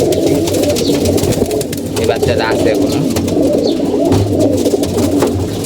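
Pigeons coo steadily in a loft, low throaty calls rolling on close by while someone talks over them.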